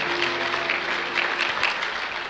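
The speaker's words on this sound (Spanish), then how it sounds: "Denle un fuerte aplauso al Señor si puedes" A church congregation applauds loudly and steadily, a dense continuous clapping that holds at the same level for a couple of seconds.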